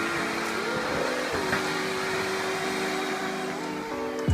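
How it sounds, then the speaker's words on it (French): A vacuum cleaner runs steadily in a hair salon in Geneva, a close, continuous whining hum whose pitch wavers slightly as it is pushed around, with no one speaking over it. "La plus belle des beauty de Genève passe l'aspirateur"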